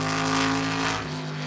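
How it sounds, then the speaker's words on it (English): A Lamborghini Diablo Super Trofeo race car sweeps past heading down toward the Melbourne hairpin, its engine a loud, steady roar that fades slightly as it moves away. "the Lamborghini Diablo from the earlier days of Super Trofeo. That car making its way down towards the Melbourne hairpin"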